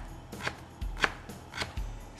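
A knife chops pickled mustard greens on a board in a Thai kitchen, giving several crisp, evenly spaced thuds close by with no talk.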